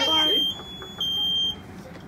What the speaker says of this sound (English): if we don't move for a while, the pack sounds an alarm saying there's something wrong